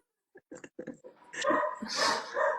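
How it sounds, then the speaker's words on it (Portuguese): Small pet dogs give a few quick, close yips and barks that turn into louder whining and yelping over the last second, with a faint voice briefly heard. "é os cachorrinhos que nós temos"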